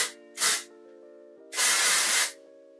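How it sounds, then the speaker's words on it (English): Two bursts of hair texture spray misted onto curly hair, a short puff followed by a longer steady hiss, both close and clear over a faint background hum. "So I'll just spray this because it feels really lightweight."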